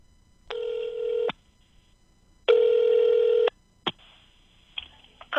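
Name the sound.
telephone ringing while placing a call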